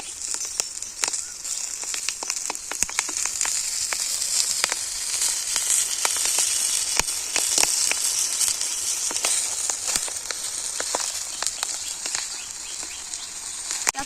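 Mourala fish frying on a banana leaf in a pan, a steady bright oil sizzle with scattered sharp pops and crackles throughout, close and continuous, no voices.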